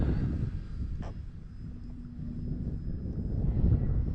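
An E-flite Clipped Wing Cub, an electric RC model airplane, flies aerobatic stall turns and loops. Its motor gives a faint, distant whine, largely buried under steady wind noise across the microphone.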